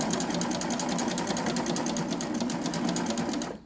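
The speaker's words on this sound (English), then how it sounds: "Got my foot down, and I'm just going to sew, and you can see the stitches starting immediately." A serger runs steadily while sewing a flatlock stitch, its rapid rhythmic needle clatter continuous and close for several seconds before stopping abruptly at the end.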